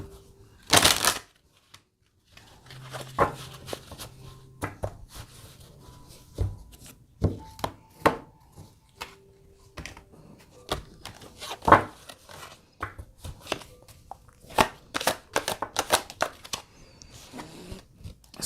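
A 160-card Family Feud tarot deck shuffled by hand, close, crisp riffles and taps coming in uneven bursts, fairly loud against a quiet room.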